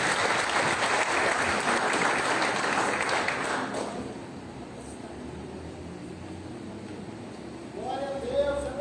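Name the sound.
church congregation applauding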